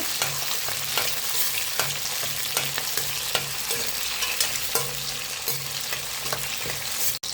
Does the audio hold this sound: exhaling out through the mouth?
no